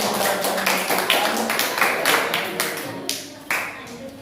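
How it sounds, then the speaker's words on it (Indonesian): In a classroom, students clap for a presenting group, a burst of uneven, fairly close hand claps that thins out toward the end, with a few voices mixed in. "kita beri tepuk tangan untuk kelompok 1 yang sudah menyampaikan"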